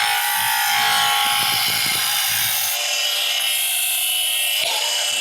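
A skew chisel smooths a spinning wooden workpiece on a lathe, giving a loud, steady, broadband shaving hiss with faint low rumbling underneath, carrying on continuously throughout without speech.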